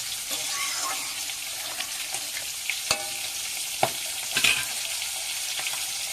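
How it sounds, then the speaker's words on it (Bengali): Eggplant sautéing in a hot pan: steady, continuous sizzling and frying hiss throughout, with occasional sharp pops and stirring scrapes, close and moderately loud with no talk. "বেগুনটা কষিয়ে নেব।"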